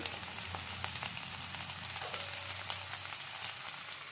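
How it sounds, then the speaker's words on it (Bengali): Mixed vegetables such as eggplant, drumstick and carrot frying in a pan, a faint, even hiss with occasional tiny crackles and no talking. "এগুলোকে একটু আমি ভাজা ভাজা করব"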